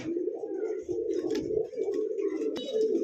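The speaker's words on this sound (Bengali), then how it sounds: "কেউ বন্ধুগণ এই পর্যায়ে দেখতে পাচ্ছেন ঝর্ণা শাটিক কবুতর আছে" Pigeons of a high-flying breed cooing close by, a continuous low throaty coo with overlapping calls and a brief sharp click near the end.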